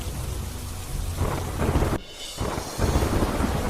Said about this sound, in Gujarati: ધોરાજીના ગ્રામ્ય વિસ્તારમાં ધોધમાર વરસાદ.